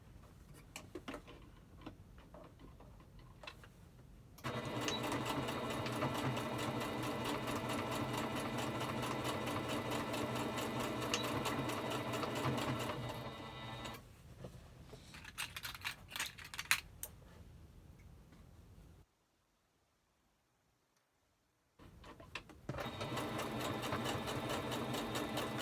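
A sewing machine stitches a one-piece fabric mask in long rapid runs, stops, then makes short back-stitch bursts and pauses in silence before starting again.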